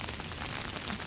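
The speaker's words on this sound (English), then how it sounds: "It's raining pretty hard right now." Heavy rain falling outdoors, a dense, steady hiss of drops spread across the whole range for about a second, with no voices over it.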